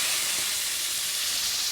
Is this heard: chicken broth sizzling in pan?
yes